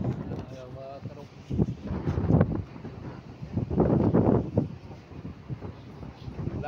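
Wind buffets an outdoor microphone at a home basketball court, a steady rumbling roar with gusts rising and falling, under continuous talking.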